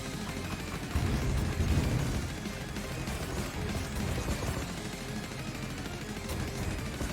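Rapid stream of small laser shots fired from a shooter core during a boss fight in the video game Jet Lancer, a dense continuous crackle of gameplay effects.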